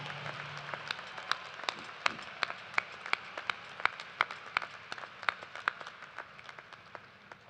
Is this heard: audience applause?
yes